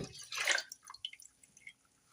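A short splash of water pours into a pan of washed quinoa, trailing off into scattered faint drips and trickles.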